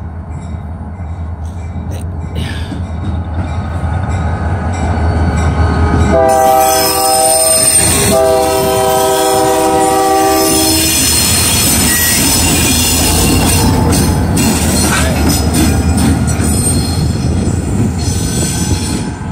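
A GP38-2 and an SD40N locomotive roll past pulling train cars, the horn blaring in long tonal blasts over a loud, steady rumble of wheels and rail noise with some squealing, close by throughout.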